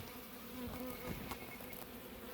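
Dense buzzing of many honeybees at a hive in cold early February, a continuous close hum with no voices.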